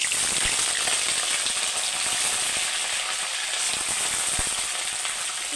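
Potatoes and flat beans frying in a pan give a constant, dense sizzle close up, with faint scattered ticks and pops throughout and no voices.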